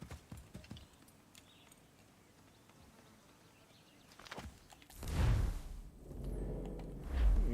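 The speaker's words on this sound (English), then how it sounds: "this horse is only making it harder to travel." Horse hooves in the video game Assassin's Creed III Remastered clip-clop quietly at first, then heavier thuds and rustling swell in a few loud bursts toward the end.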